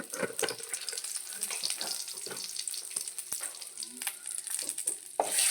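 Chili powder being stirred in a frying pan for a chutney tempering, with sizzling oil and irregular scraping strokes of a spoon; faint and close, with water-like splashes mixed in.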